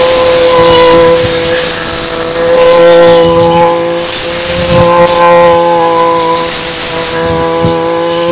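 A train rushing past close by, a loud continuous roar with steady tonal hum and metallic wheel squeal, filling the whole stretch over the steady drone of a grass trimmer fitted with a cheap tipped saw blade.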